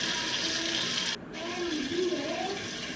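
A pot of sour curry (huli) boiling on the stove, giving a steady close-up watery bubbling and hiss with a brief dip partway through.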